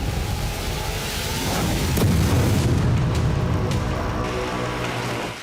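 A deep, rumbling blast from a Kinzhal missile strike on Kyiv, with a broad roar that swells and lingers, like a large explosion heard amid continuous loud noise.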